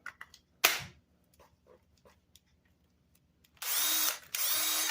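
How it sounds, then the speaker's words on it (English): After a few faint taps and clicks, a Ryobi cordless drill with a repaired lithium-ion battery pack whirs loudly for about a second, stops briefly, then spins up again. "try it on the Ryobi drill"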